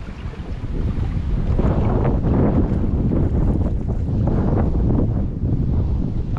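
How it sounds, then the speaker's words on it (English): Heavy wind buffets the microphone while boating on open water in an Old Town Sportsman Autopilot 120 fishing kayak, a loud, steady roar of gusts and rumble that barely lets up, with no voices. "This wind is terrible."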